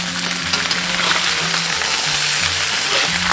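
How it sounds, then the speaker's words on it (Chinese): Fish pieces pan-fry in oil, a steady close sizzle and crackle running evenly throughout over a faint low droning hum, with no voices. "两面煎好过后，淋一圈料酒"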